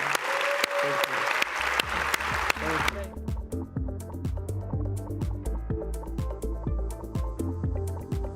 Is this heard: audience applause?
yes